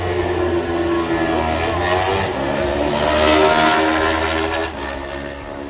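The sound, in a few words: Kawasaki superstock racing motorcycle passing, Isle of Man TT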